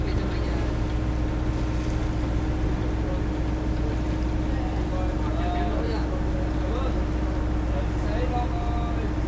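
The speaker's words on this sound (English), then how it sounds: "on our transfer boat" A transfer boat engine in Halong Bay drones steadily with a low, constant hum and throb, with people talking faintly over it.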